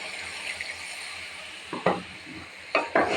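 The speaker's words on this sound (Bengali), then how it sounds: "এখন আমি জল দিয়ে দিচ্ছি" Water poured into a hot pan of fish curry with pabda fish and pointed gourd bursts into two sharp, loud sizzling hisses after a quiet stretch of low frying.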